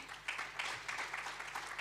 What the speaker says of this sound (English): A wonderful applause to the panelists